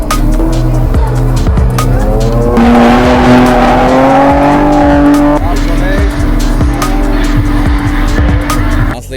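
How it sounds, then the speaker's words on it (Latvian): Drift car, a BMW E34, squealing its tires in a sustained controlled skid, engine roaring loud and close throughout with a rising, wavering screech; a voice is briefly audible under the noise. "Automašīnas vadīšana kontrolēta sānslīdē."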